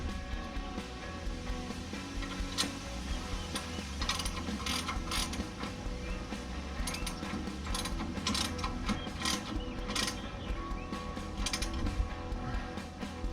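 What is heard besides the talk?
ratchet tightening shock absorber bolt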